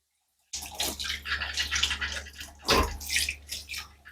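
Water runs from a tap at low pressure, a steady splashing stream that starts abruptly after a short silence and continues close up with slight surges.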